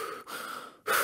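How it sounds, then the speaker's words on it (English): Recovery breathing after a breath hold, close heavy inhalations and exhalations with a brief pause, ending in a sharper gasping intake of air. "now you're like gasping for air. That's exactly the recovery breath."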